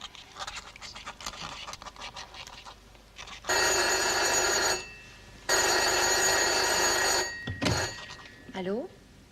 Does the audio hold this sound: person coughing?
no